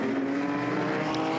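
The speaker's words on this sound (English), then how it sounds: "The Bullet Racing Mercedes now then, up towards turn 17. Through that right-hander, back on the power, rumbles up towards the timing line." The Bullet Racing Mercedes GT4 race car accelerates out of a right-hander at the Nürburgring during a GT4 European Series race, its engine giving a loud, steady, rumbling drone close by.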